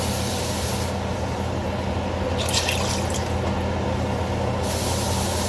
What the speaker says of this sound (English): We're going to add a little bit more water over in this other pot over here.